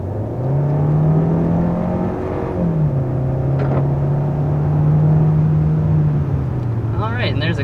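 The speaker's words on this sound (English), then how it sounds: "there's a quick acceleration with this Sonata" A 2022 Hyundai Sonata accelerating quickly, its engine note rising steadily with a brief dip at a shift before climbing again, steady and prominent inside the cabin.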